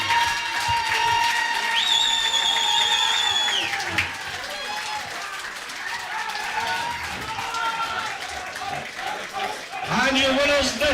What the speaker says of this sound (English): Big round of applause, Northern Ireland.